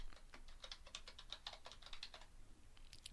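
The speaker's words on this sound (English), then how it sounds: "So I'm going to type in the word description." Rapid keystrokes on a computer keyboard while entering text in a word processor, close and clear, with irregular bursts of clicks and a brief pause before a few final taps.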